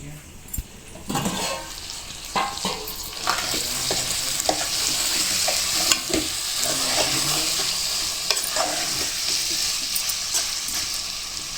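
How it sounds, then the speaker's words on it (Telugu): Fish pieces for Telangana-style fish pulusu are stirred in hot frying oil, giving a steady close sizzle with scraping spoon strokes recurring through it, no talking. "అది ఒకసారి కలుపుదాం ఫిష్."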